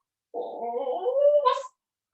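A child imitates a dog during a downward dog yoga pose, a single voiced whining, howling bark-like call about a second and a half long that rises at the end, close and alone.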